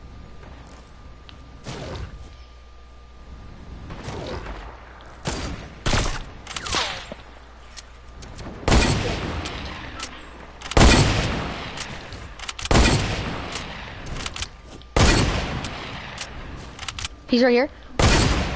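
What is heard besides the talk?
gunfire in a video game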